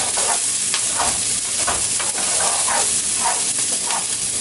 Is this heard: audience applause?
no